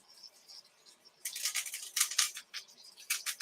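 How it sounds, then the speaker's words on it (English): Faint, sharp crackling and spitting in bursts, like herbs sizzling in hot fat, starting after a quiet moment and popping irregularly. "You'll hear some crackling, pretty normal. It's just the herb leaves with the moisture reacting to the fat."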